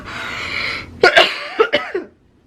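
A couple of harsh, close coughs from a lingering weeks-long cough in quick succession after a moment of breathy background noise, ending in a rasp.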